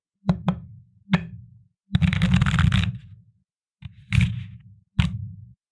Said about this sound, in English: When I was shuffling, this card fell out from the deck